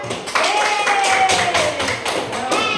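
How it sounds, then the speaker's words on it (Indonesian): Scattered claps from a classroom group of primary students, a few sharp hits spread unevenly over a couple of seconds, mixed with children's voices and chatter. "beri tepuk tangan untuk Sina"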